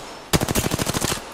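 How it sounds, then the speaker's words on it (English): Automatic weapon fire in the video game Apex Legends: a sharp burst of about a dozen rapid, loud shots in a fast even rhythm, heard close up with no voices. "The enemies are shooting at me."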